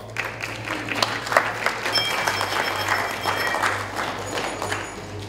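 Audience applause at a 70th birthday celebration, a steady wash of clapping that runs the full length at moderate volume, with a low hum underneath and a few brief voices mixed in.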